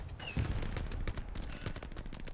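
Sustained gunfire from a weapon in the World War II shooter Hell Let Loose: a continuous, fairly loud stream of rapid shots with a heavy thump near the start and no speech.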